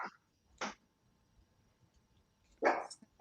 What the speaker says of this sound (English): Stop barking. There's somebody there.